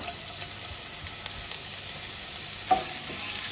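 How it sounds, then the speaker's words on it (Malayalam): Crushed ginger and garlic fry in hot oil in a pan, producing a steady close sizzling hiss with a faint stir or clink partway through. "ഇതിലേക്ക് ഇഞ്ചിയും വെളുത്തുള്ളിയും ഒന്ന് ചതച്ചിട്ടിട്ട് വെക്കാം"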